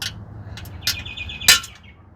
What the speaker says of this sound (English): If this bird don't shut up,